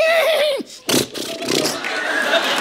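A voice imitates a horse whinny as a comic insult on a comedy stage show, a shaky rising neigh followed by audience laughter and chatter.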